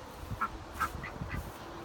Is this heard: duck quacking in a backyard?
yes